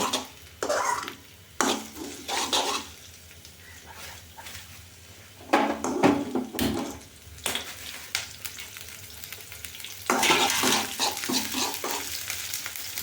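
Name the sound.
sautéing curry leaves in a pan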